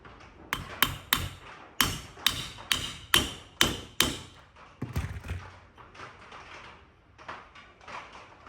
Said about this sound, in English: then we can go ahead and hammer it down